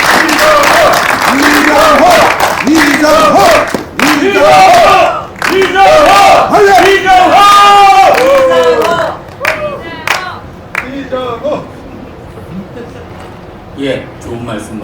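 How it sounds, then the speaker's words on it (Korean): An audience at a press screening of the documentary film 'Syngman Rhee and Park Chung-hee' ('하보우만의 약속') applauds and cheers for director Lee Jang-ho, with loud, dense clapping and shouts in bursts, broken by brief pauses, then fading into scattered claps. "뜨거운 감사의 박수 부탁드리겠습니다"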